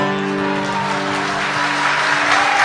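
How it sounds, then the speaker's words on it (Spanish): Audience at an outdoor public event in Formosa applauds after a young man's gaucho recitation with guitar accompaniment, steady crowd clapping over a sustained tonal background that swells slightly toward the end. "Fuerte los aplausos"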